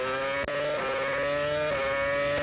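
A steady, high-pitched Renault Formula One engine drone at the 2006 Australian Grand Prix holds nearly constant, with brief dips where the pitch shifts, sounding close and continuous.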